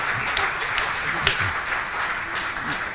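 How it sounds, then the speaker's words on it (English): An audience applauds at a peace-themed talk with a steady patter of many hands clapping, a dense and moderately loud wash that holds for a few seconds with some individual claps standing out. "Thank you for that very much appreciated applause."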